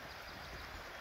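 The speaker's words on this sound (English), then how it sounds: "So yeah, now these rapids down here," Creek rapids rush over rocks and flood-dumped debris past an island, a steady, soft broadband hiss of flowing water with no break or voices.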